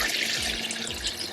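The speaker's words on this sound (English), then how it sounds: "And now we are going to add a little bit of water." Water pours steadily into a pot of Dominican sancocho stew with corn, oregano, salt and chicken bouillon, a continuous close splashing gush like a running tap, loud and unbroken with no talk.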